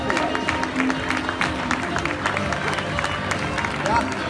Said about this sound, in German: sparen Sie nicht mit Ihrem Applaus